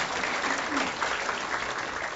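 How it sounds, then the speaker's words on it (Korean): A church congregation claps together in praise during a Korean worship service, a dense, even burst of applause filling the room for a couple of seconds. "우리 하나님께 감사와 영광의 박수를 드리겠습니다"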